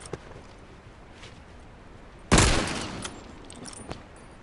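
A single loud rifle shot cracks out nearby in a video game match, standing alone against quiet ambient background noise, with a short decaying tail and a few faint clicks afterward.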